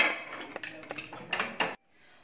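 Metallic clanks and clinks of a pressure cooker lid being fitted and locked shut while chickpeas are boiled, several short knocks close by, then quiet.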